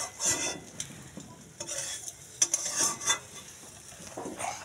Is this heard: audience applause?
no